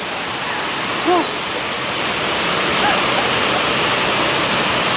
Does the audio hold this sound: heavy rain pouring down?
yes